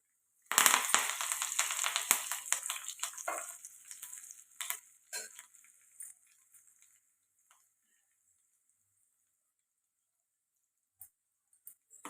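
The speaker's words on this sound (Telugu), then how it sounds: "పోపు అయితే వేగిపోయిందండి." A tempering of dried red chillies, turmeric and curry leaves crackles loudly in hot oil, spitting densely at first, then thinning to sparse pops and fading to near silence, with a few faint ticks near the end.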